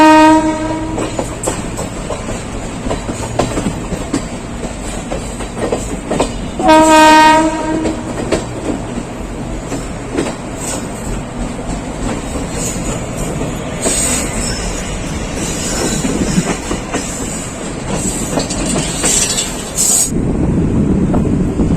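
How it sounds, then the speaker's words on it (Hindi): An Intercity Express passenger train pulls away from Belthara Road railway station on the Varanasi–Gorakhpur route. Its horn blasts at the start and again a few seconds later, over loud, continuous rumbling and clattering wheels on the rails, with occasional squeals. "जो ट्रेन है वो तो डिपार्ट कर चुकी है बेलथरा रोड रेलवे स्टेशन से"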